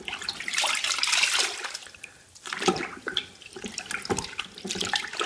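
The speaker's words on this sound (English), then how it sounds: "just dip this cloth into the bucket that we had prepared earlier" A cloth is dipped and sloshed in a bucket of Woolite cleaning water while cleaning Recaro car seats, producing a steady run of close watery splashing and dripping with a brief quieter pause.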